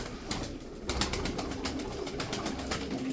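Tumbler pigeons from the same loft cooing close by over a dense, rustling background, with a soft flutter of activity and no speech.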